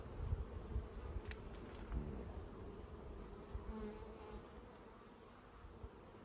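Honeybees hum in an open hive, a faint, soft, continuous buzzing drone with small swells, close by and without talk.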